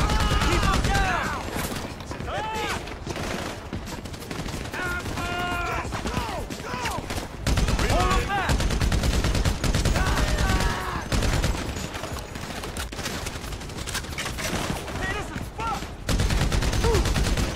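Gunfire in the GTA 5 video game with a real-life mod, sustained bursts of shots packed closely across the stretch, with someone talking excitedly over the shooting throughout.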